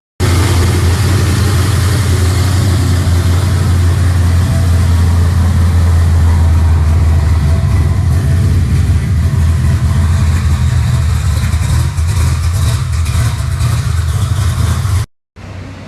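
A 1969 Chevrolet Camaro engine running, a loud, steady low idle rumble close to the microphone that holds for about fifteen seconds before cutting off abruptly near the end.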